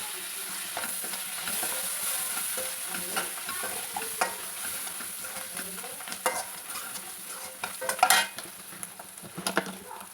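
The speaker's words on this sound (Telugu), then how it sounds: "ఇప్పుడు ఉల్లిపాయ జింజర్ గార్లిక్ పేస్ట్ వేగిద్ది కదా" Onion with ginger-garlic paste frying in a pan for paneer masala: a close, steady sizzle with stirring and scraping throughout, and a brief louder clatter near the end.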